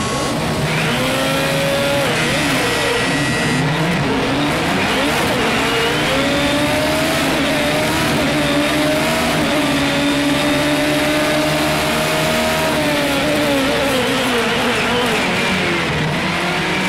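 A World Formula X open-wheel race car at Monza in the racing game Project Cars 2 screams loud and close, its engine note climbing and dropping through gear changes without a break.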